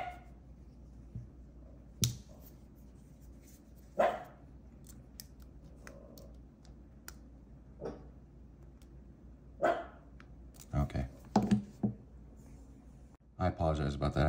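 A dog barks indoors in a house, loud sharp single barks scattered across a mostly quiet room, with a cluster of rapid barks near the end and someone talking in between.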